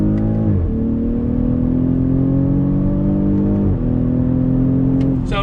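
A 2020 BMW X6 40i engine is held on throttle after downshifts from third to second, a loud steady drone whose pitch climbs slowly, dips sharply at a gear change and rises again.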